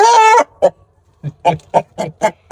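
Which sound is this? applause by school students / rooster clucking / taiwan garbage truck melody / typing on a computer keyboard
rooster clucking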